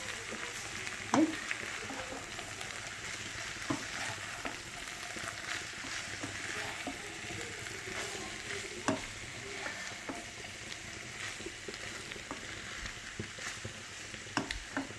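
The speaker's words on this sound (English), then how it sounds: "So we'll add pasta in it and we'll stir it for some time." Grilled vegetable pasta sizzles quietly in a pan as it is stirred, a steady low frying hiss dotted with occasional spoon scrapes and taps, and no talking.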